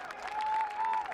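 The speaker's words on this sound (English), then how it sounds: "How about a round of applause for our Wakefield" Applause for the Wakefield boys varsity soccer team on senior night at a school field, a steady wash of clapping from a crowd with a sustained tone running through the middle.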